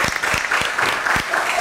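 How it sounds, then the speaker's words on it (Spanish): Studio audience applause greeting a female guest on a Spanish-language talk show, a dense burst of clapping lasting a moment, fairly close and loud with no voices over it. "Vamos a darle un aplauso a esta invitada de la noche, Marianela Espinosa."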